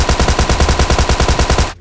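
A Tommy Gun fires in the video game PUBG Mobile: one loud, close, unbroken burst of rapid shots for nearly two seconds that cuts off abruptly at the end.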